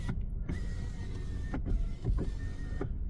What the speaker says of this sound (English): I'm gonna roll my window down